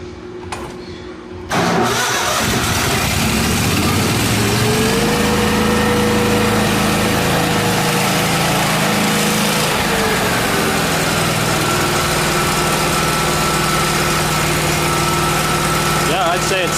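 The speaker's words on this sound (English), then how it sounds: "So we'll fire it up now and make sure it works as it should" A Miller Trailblazer welder's engine cranks and catches after a short quiet start, then settles into a steady, loud idle with a strong mid-pitched drone that runs on without a break.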